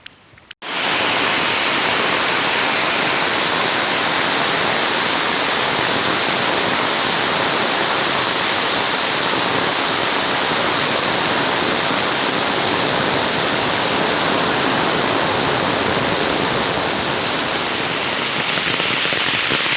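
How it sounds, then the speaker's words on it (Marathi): Heavy Konkan monsoon rain with stormy wind pours down steadily and loudly, a dense continuous hiss of drops hitting surfaces that lasts throughout without a break. "पाऊस भरपूर पडतोय त्यामुळे आता गुरेसुद्धा झाडाखाली आले."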